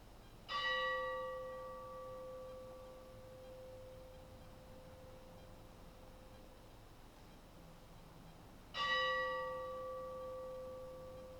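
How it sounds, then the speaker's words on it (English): A church bell tolls at a funeral service, two loud, ringing strikes about eight seconds apart, each hum fading slowly into a quiet room. "we will acknowledge her life with the tolling of the bell 3 times"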